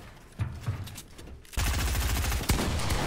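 Shotgun fire rattles in a video game tournament: several sharp blasts land, then a dense burst of rapid gunfire takes over, loud and continuous, with no clear talk over it.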